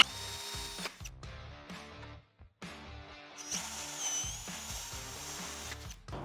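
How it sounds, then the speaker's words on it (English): A power drill with a 1/4 inch bit whirs in bursts, pausing briefly between runs, with a steady grinding motor tone throughout and no talking. "take a 1/4 inch drill bit and we're going to drill a hole"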